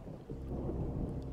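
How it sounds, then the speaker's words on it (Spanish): A very strong night thunderstorm: a deep, continuous low rumble of thunder over steady rain, loud and close, with no voices. "Una noche cayó una tormenta muy fuerte."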